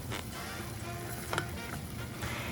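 Lentil taco filling cooks quietly in a pan, a faint steady sizzle with a few soft clicks and scrapes, close and unaccompanied by speech.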